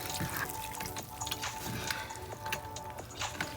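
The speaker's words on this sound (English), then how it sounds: "give this guy some water" Water poured onto a potted plant at its trunk, an uneven gurgling, splattering stream with soft wet crackles, steady and close throughout with no speech.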